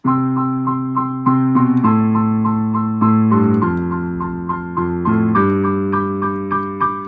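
Piano plays a repeating four-chord doo-wop progression with steady arpeggiated rhythm, clear and close, chords shifting every second or so with no voices.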